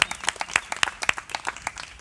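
An audience claps in brief, uneven bursts at close range, the scattered hand claps filling the room without talk over them.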